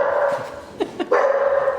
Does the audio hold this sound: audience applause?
no